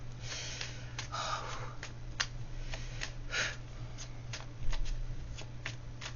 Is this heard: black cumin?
no